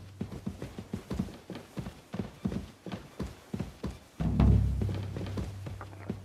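Horse hooves clip-clopping in the video game Kingdom Come Deliverance 2, a steady walking rhythm of close, distinct hoofbeats, followed by a low rumbling thud near the end.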